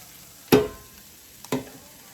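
Sausage, bacon and cooked beans stirred in a pan, two quick scraping strokes that each bring a brief burst of sizzle, close and alone.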